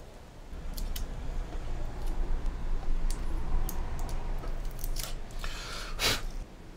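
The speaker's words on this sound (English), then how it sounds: "I'll carefully remove the tape." Masking tape peeled slowly and gently off a 1/200 scale Trumpeter Bismarck model ship with photo-etch parts, a soft continuous close crackling with a few small sharp ticks and one brighter rip near the end, with no talk.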